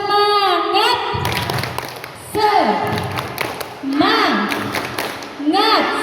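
Audience at an Islamic women's study gathering performs the rhythmic 'tepuk semangat' clapping chant, with bursts of sharp, patterned hand claps mixed with loud chanted and sung voices and a leader's speech in between.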